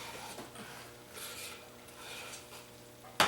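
Soap mixture being stirred, a faint, close rubbing and scraping in slow repeated strokes, ending with a brief louder knock.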